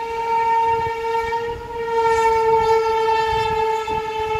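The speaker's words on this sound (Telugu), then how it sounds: "అదిగోండి the king of SCR Telangana express అయితే పోతుంది" The Telangana Express, a passenger train, sounds a long, loud, sustained horn as it passes close by, a steady multi-tone blare that holds throughout over a low rumble of the rolling train.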